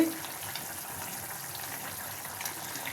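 Water with tomato simmers in a pan over a high flame, a soft continuous bubbling hiss at low level with no voices.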